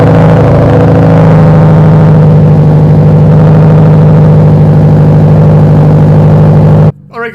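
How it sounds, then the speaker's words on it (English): Subaru STI engine idling steadily while warming up in a garage, a loud, even, close rumble that cuts off abruptly near the end. "car obviously started up just fine. I'm just letting it warm up for a few minutes"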